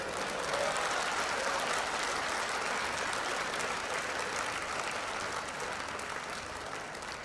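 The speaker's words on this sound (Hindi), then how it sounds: "एक बार तालियां बजा दें" Sustained applause from a live audience at a Hindi poetry recital, dense and steady clapping that holds at full strength throughout with no voices rising above it.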